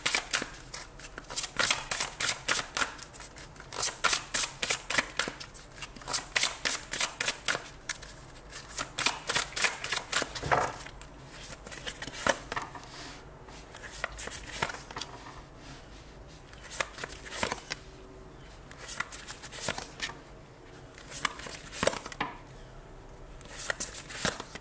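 Tarot cards shuffled by hand, a close riffling and flicking in quick bursts with short pauses between them, no talk over it.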